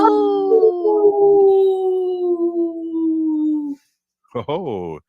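A person howls like a wolf in a long, steady, slightly falling call of about four seconds, then gives a shorter wavering howl after a brief pause. The voice imitates a wolf howl, close and loud, with no other sound.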